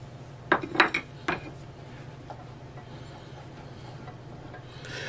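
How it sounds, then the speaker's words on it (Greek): A spoon knocks and clinks sharply against a metal pot a few times early on while cream and butter are stirred together, then the clinks give way to a quiet, low steady background hum. "Ανακατεύουμε καλά μέχρι να λιώσει το βούτυρό μας"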